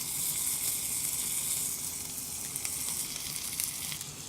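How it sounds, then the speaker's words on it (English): Lamb browning in a hot frying pan, a steady close sizzle and hiss with occasional small pops and crackles throughout, no voices. "I've parked it up against the side of the pan so that it can sit up and brown on the other side before flipping it right over"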